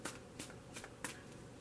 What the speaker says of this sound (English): I was only going to shuffle it for a moment anyway.